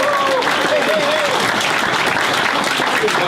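Loud, close applause and cheering from a crowd at a sports performance center groundbreaking ceremony honors head football coach Drew Cronick, with voices and whoops mixed into the dense clapping throughout.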